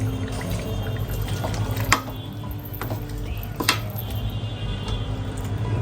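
Oil is poured into raw mango pickle in a kitchen, a soft continuous trickle under a steady background hum, broken by a few faint clinks of utensils.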